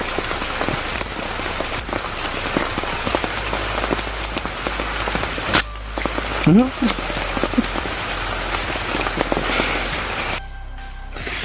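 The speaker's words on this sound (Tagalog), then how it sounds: "hindi na tumitigil yung ulan." Steady rain pours down onto surfaces in a dense, continuous patter, with a brief human voice and a few louder knocks partway through.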